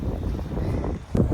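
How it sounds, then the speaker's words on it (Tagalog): Wind buffeting a microphone outdoors in a park, a low rumbling roar with gusty fluctuations and a brief dip before a sharp burst of buffeting near the end. "medyo mahangin po"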